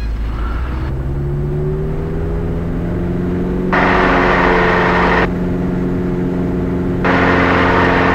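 An aircraft engine runs at full throttle during a night training exercise, a loud steady drone with strong low harmonic tones, rising slightly in pitch early on and holding close and constant throughout.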